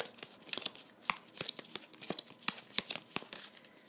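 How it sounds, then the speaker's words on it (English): Cards from an Onirim deck being shuffled, a steady run of crisp riffling snaps and papery flicks, close and fairly quiet, with no talking. "So I have this big old limbo pile I'm going to have to shuffle into the deck"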